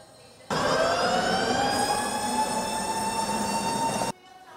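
A high-speed train runs at a station platform, a steady loud rolling rumble with a rising whining tone that starts abruptly, holds for about three and a half seconds, then cuts off.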